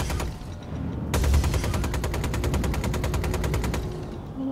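Spaceship guns test-fired in Star Citizen, a rapid, evenly spaced burst of roughly thirty sharp shots lasting under three seconds, loud and close over a low engine hum.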